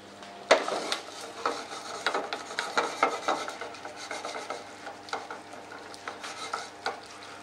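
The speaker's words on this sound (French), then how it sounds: "Délaye bien la tomate concentrée dans la casserole." A spoon scrapes and stirs tomato paste steadily around a saucepan, a busy run of rasping strokes with a faint sizzle underneath, no voices.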